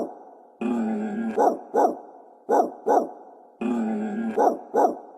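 A dog close by gives repeated sharp barks, mostly in pairs, each set led by a longer growling whine; the pattern repeats twice, loud and alone with no talking.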